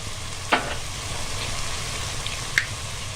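Spiced chicken frying in a pan with a constant close sizzle, broken by two sharp clinks of the stirring utensil against the pan.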